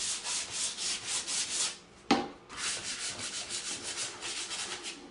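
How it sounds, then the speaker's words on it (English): Hand sanding of a wooden beach sign coated in a light salt-wash paint, a steady rhythmic scratchy rubbing with a brief sharp knock partway through, close and moderately quiet. "I'm just going to give it a sand up here."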